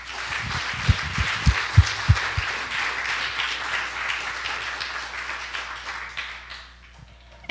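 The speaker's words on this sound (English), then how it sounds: "let's have one more round of applause for all of our speakers" Audience applause at a TEDx talk, a sustained broad wash of clapping from a large crowd that holds steady for several seconds before thinning out, with a few low thumps near the start.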